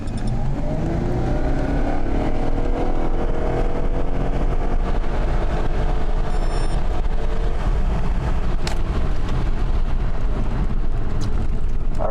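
A car accelerates hard from standstill to 100 km/h, the engine heard from inside as a loud, continuous roar climbing in pitch through several gear changes, with no one speaking.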